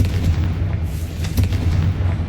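A Confringo spell explosion from the Hogwarts Legacy video game gives deep, loud booming thuds, several in quick succession over continuous low rumbling.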